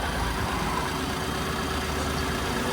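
A crash-damaged 2020 Mini Clubman JCW idles with a steady, dense engine drone, heard close and loud without break, and nobody talks.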